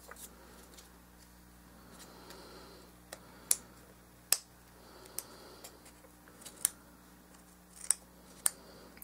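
Scissors trim glued craft material on a miniature dollhouse stove, giving a series of sharp, separate snips at irregular intervals over quiet room tone, close and fairly crisp.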